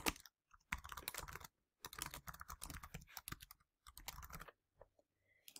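Someone typing a URL on a computer keyboard: quick bursts of close, crisp key clicks with short pauses between runs, alone and fairly quiet.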